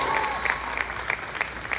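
A marching band camp audience applauds a band director, scattered distinct claps rising over a murmuring room, brief and moderately loud.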